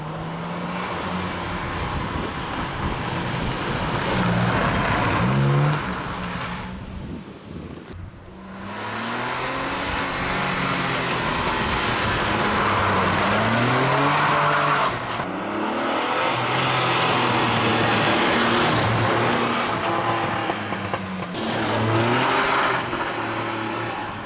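A Ford Capri 2.8 litre injection V6 drives on the road, heard from inside as its engine revs up and down through repeated rising pulls and gear changes, loud and close.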